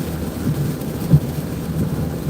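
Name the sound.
heavy rain with thunder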